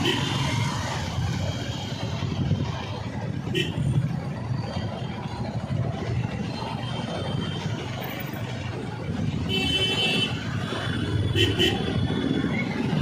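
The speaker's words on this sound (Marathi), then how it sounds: "ट्रॅफिक थोडं जास्त आहे कारण का आज मंडे आहे" Continuous city traffic rumble on a Monday with passing cars and engines, a few faint horn-like tones, steady and moderately loud.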